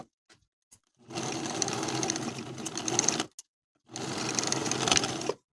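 A sewing machine edge-stitches the opening of a fully lined vest in two sustained bursts of steady, rapid stitching, the first about two seconds long and the second shorter after a pause, close and clear with no talking.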